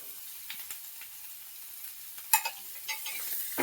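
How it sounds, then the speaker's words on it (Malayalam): Chicken pieces go into a curry frying in a pan, with a faint, steady sizzle and a brief clatter as they drop in. "ചിക്കൻ ഇടുകയാണ്"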